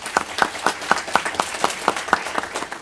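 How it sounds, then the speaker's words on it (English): Sparse, evenly spaced hand claps from a small group at a Villa Rica public safety event, about ten sharp claps in a steady rhythm, close and moderately loud. "let's give them another round of applause"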